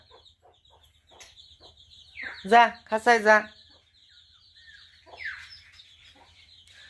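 Hens cluck and squawk close by, a short loud burst in the middle, while a person calls out to them and their chicks between quieter stretches.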